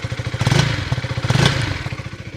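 KTM Duke 250 motorcycle exhaust with a close, throbbing idle that swells into two short revs before settling back to a steady pulse.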